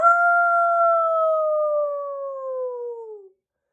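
A person imitates a wolf howl with one sustained, loud, close voiced tone. It slowly falls in pitch over about three seconds and then stops abruptly into silence.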